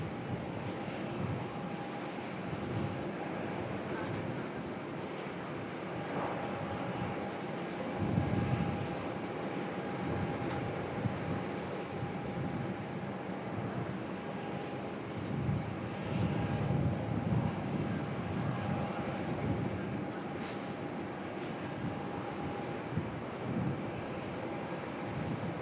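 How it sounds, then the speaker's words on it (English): An Airbus A220 airliner arriving at Melbourne airport from Coffs Harbour gives off a steady, distant engine roar that swells slightly and fades over a broad rumble of airport noise. "A220 there just came on in from Coffs Harbour."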